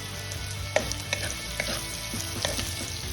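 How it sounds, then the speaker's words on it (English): Salted onion frying in oil, a quiet steady sizzle with a few sharp stirring clicks scattered through, heard close and alone. "Add a little salt to help the onion fry faster."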